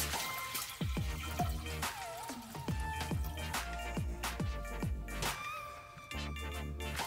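Tap water pours into a cooking pan on a kitchen stove, a close, steady rushing stream with clinks and drips from the pan.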